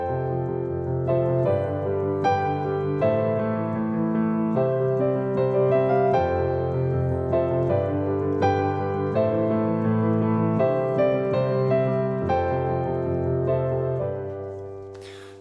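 Piano chords ring out over steady sixteenth-note movement in the lower register, moderately loud, fading gently at the end.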